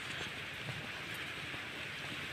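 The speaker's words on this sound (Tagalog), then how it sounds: "Ang lakas ng ulan, may baha na ngayon" Heavy rain falls on open farmland in a steady, dense wash of noise, constant and fairly close with no other sounds breaking through.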